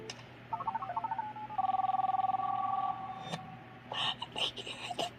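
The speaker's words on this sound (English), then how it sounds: "I hear the phone ring." A telephone rings in a tense emergency scene, a quick trilling electronic ring repeating twice over a low room hum, followed by faint movement and muffled voices.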